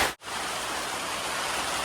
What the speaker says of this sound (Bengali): এই যে চালের মধ্যে শব্দ হচ্ছে টুকটুক করে